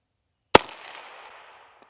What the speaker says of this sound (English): Let me shoot again to see if it was me or the rifle.